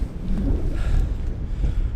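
Wind buffeting the microphone at a winter camp in the Lake District, a loud, rough low-frequency roar that surges and dips without pause.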